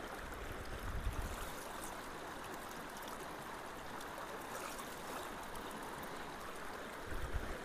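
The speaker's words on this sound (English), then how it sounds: "Man, it's really sucking in water now." Water pours steadily through a freshly unclogged culvert, a broad continuous rushing flow with a couple of brief low thumps near the start and end.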